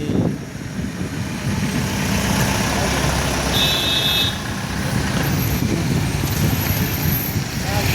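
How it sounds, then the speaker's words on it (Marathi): Vehicles idling in a highway traffic jam between Pachwad Phata and the Kolhapur Naka in Karad, a steady low engine rumble with truck and car noise close by and a person talking over it. "रोजचा ट्रॅफिक जाम झालेला आहे"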